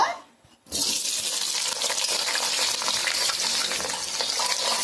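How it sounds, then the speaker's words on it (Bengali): Oil spits and sizzles in a wok with a loud, dense hiss. It starts after a short quiet moment and then holds steady and close with no voices. "কড়াইয়ে তেল দিয়ে দিলাম"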